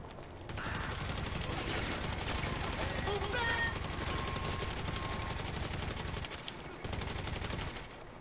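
Sustained automatic gunfire in GTA Online rattling on in one long, dense burst at close range for several seconds, briefly dropping out before a final stretch.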